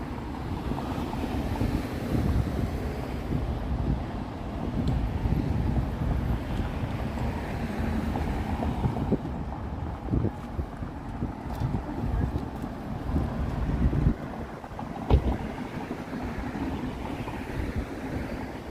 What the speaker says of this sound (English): I'm kind of enjoying this cool, breezy air